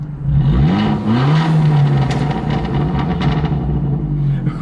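Abarth 500 with a Power Motive valved exhaust and the valve open, revving up and holding a deep, throaty drone close by, with pitch rising and settling across the run; no talking over it.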